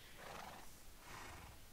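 A horse in a Minecraft-style building game whinnies twice in quick succession, each neigh loud and close, with nothing else around it.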